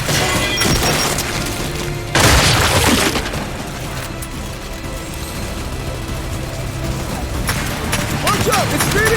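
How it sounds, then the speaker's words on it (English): Frag grenade blast in the video game Gears 5, a loud burst of noise bursting out amid dense gunfire and battle clatter, with voices calling out around it. "Incoming frag!"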